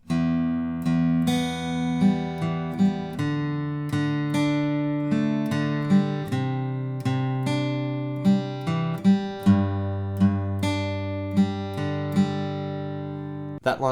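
An acoustic guitar picks a pre-chorus in an even, arpeggiated pattern, notes ringing together over low bass strings, close and clear with no talking until a short pick noise at the end.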